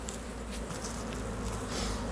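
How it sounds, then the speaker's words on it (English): Honey bees drone in a dense, continuous buzz at a hive where a beard of bees hangs underneath, loud and close throughout with no pauses. "You've got a beard of bees hanging down underneath"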